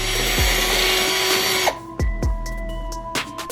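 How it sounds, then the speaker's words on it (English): A power drill with a 1/4-inch bit whines loudly, then cuts off, followed by a few short bursts and thumps as it bites into a 2010-2012 Mustang GT front bumper, drilling pilot holes. "Now we're gonna drill in with a 1/4 drill bit."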